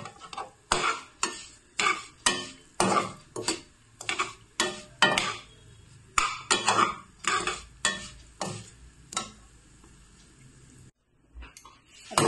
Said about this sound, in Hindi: जब तक ये थोड़ा ब्राउन कलर हो जाएगा तब तक इसको करेंगे फ्राई।